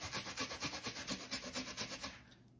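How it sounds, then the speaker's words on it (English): An onion being grated on a grater, about a dozen steady rhythmic rasping strokes, close and clear, then trailing off at the end. "the recipe called for grating onion in the breadcrumb"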